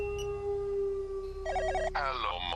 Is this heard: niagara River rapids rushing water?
no